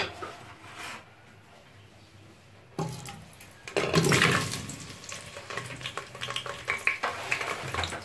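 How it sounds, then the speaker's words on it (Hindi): Potatoes are dropped into hot oil in a pressure cooker for desi-style aloo gosht. A sudden burst of bubbling and sizzling swells and continues steadily with occasional stirring clatter, following a quieter stretch of background room noise. "सबसे पहले हम आलू को फ्राई करेंगे।"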